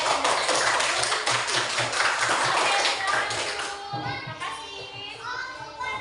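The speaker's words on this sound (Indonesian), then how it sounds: "kita kasih tepuk tangan untuk kelompoknya ini." A classroom of students clapping for a group that has just presented, brisk fairly loud hand claps at first that thin out and fade as children's voices and chatter take over.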